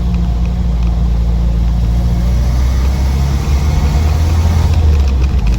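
A 1968 Morris Traveller fitted with a pancake air filter runs steadily, a loud low engine rumble with a slight surge toward the end, heard up close with no talk.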